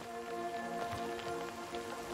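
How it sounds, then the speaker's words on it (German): Rain falls steadily in the shooter game Sniper: Ghost Warrior 3, a soft continuous patter with a few brief louder spatters, heard alone without speech. "Toll. Regen."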